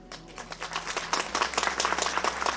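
Applause at the Lithuanian State Restoration Day ceremony in Švenčionys in 2025, a dense patter of clapping hands that builds after the first second and carries steadily to the end, fairly close, with no talk over it.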